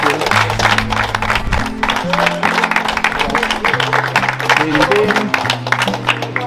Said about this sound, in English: we could give Faith Blessings a round of applause